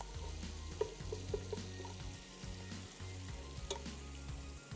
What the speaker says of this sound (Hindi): लहसुन अदरक के पेस्ट को हल्के से आपने सौते कर लेना है